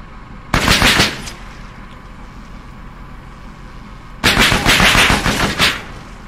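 Automatic gunfire from the Arma 3 video game comes as two loud bursts of rapid shots, each about a second or more, separated by several seconds of low background rumble, with no talk over them.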